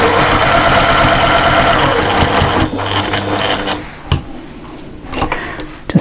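Sewing machine stitching a fabric wallet tab, a steady fast mechanical whir that runs loud for about two and a half seconds, then stops, leaving quiet handling rustles and a few soft knocks.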